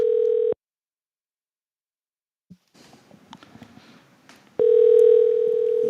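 A telephone ringback tone sounds on an outgoing call that goes unanswered: a steady buzzing ring at the start, a long gap of near-silence with faint rustling, then another loud ring burst at the end. Nobody speaks.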